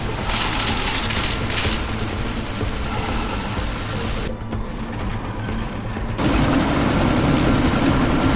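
Helicopter in the video game Deus Ex: Mankind Divided, a loud, steady rotor and engine drone with a brief dip in the middle before the roar returns at full strength.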